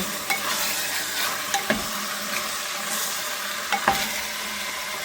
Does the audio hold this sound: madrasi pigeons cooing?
no